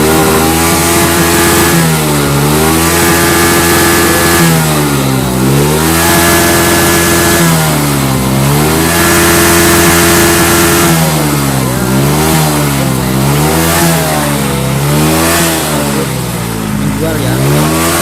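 A motorcycle engine, one with a fault that makes it die and lose ignition when hot, revs repeatedly in rising and falling sweeps over a steady running note, loud and close, with some voices mixed in.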